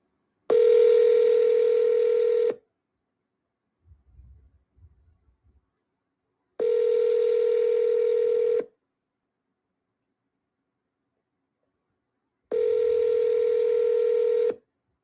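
Three long, steady telephone tones of about two seconds each, spaced by silence with a faint low rumble between the first two, as an outgoing call is placed during a live sales-call session.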